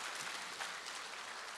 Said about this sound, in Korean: 우리 주님께 영광 박수 올려드리겠습니다.